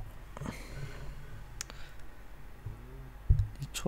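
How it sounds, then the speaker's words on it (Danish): Keyboard keys pressed in a few sparse, light clicks against a quiet room background, with one sharper tap near the end. "Jeg tror man kan høre, når jeg trykker på tastaturet."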